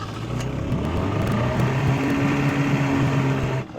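An outboard boat motor fires up after its primer bulb is pumped, then runs with a steady, close hum that shifts slightly in pitch and cuts off abruptly at the end.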